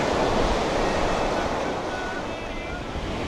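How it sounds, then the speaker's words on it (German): Continuous roar of ocean surf breaking on Palladium beach in Punta Cana, loud and close with wind noise over the microphone, slowly easing off toward the end. "Da hat man immer das Rauschen des Meeres im Ohr."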